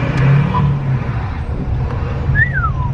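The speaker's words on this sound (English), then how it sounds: "This exhaust is kind of interesting because it almost growls." Tuned Cummins Titan truck with a 5.0 diesel engine, exhaust growling steadily while driving, a low rumble that stays close and moderately loud with faint road noise over it.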